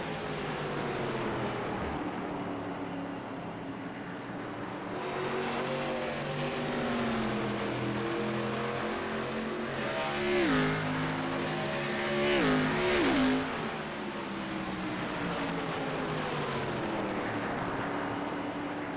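ARCA stock cars racing on the Milwaukee oval, a steady loud engine drone with rising and falling pitch as cars pass, swelling louder around the middle as several roar by close.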